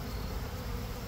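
Honeybees swarm a sugar water feeding station, a dense continuous buzzing hum of many insects heard close up with no voices.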